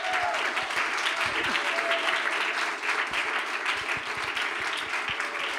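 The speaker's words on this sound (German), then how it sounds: "Und wir machen einen Applaus für Jesus." A congregation at a German-language worship service applauds together, with dense, steady clapping that continues throughout, moderately loud and filling the room.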